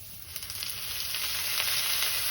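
Cumin seeds, bay leaf and dried red chilies crackle in hot oil in a kadai as a tempering for a tilapia curry, a loud, dense, continuous sizzle heard up close with no voices.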